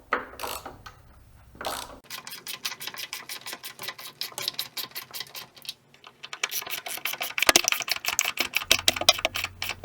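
A T50 Torx ratchet tightens hinge bolts on a Rugged Ridge Spartacus HD tire carrier, giving close, rapid bursts of ratcheting clicks with short pauses between strokes.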